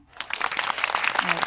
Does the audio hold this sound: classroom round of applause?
yes